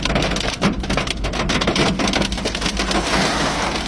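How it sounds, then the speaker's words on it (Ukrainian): Heavy hail pouring down on surfaces, a dense, loud, continuous clatter of countless impacts with sharper individual hits scattered throughout, no voices. "і такий град лупи, що трендець"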